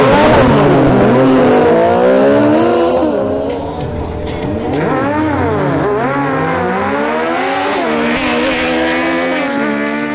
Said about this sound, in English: the face-off between Christian Alcala's Suzuki GSX-S750 and Alvaro Orozco's Yamaha MT-09